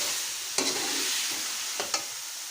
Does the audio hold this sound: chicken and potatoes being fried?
yes